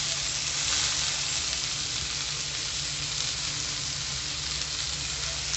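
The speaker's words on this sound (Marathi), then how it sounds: "या भेंडीचा जो चिकटपणा आहे तो घालवण्यासाठी आपण यात टाकूया लिंबू" Okra sizzles and fries steadily in a hot pan with lemon juice added, a continuous close, fairly loud crackling hiss that holds even throughout with no voices.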